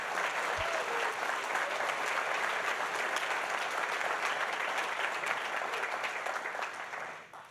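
An audience at the opening of Delta's new concourse at LaGuardia applauds steadily, producing dense, sustained clapping that holds level and then tapers off at the end.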